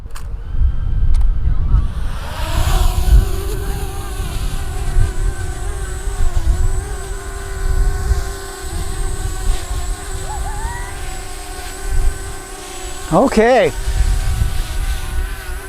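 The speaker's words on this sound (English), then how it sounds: "the drone is hovering here really nice, actually, even in this wind" An EXO Mini Pro (Blackhawk 2) drone flies and hovers outdoors in wind, its motors holding a steady, close buzzing whine over gusty wind noise, with someone speaking briefly.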